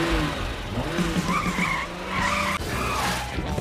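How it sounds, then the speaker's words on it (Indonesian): Car tires skid and squeal loudly and continuously in a film scene from the 2012 movie ATM Er Rak Error, as the car rams into a man, with a dense rumble beneath the screech. "Nona Jeep mengambil mobil dan langsung menabraknya agar mau buka mulut"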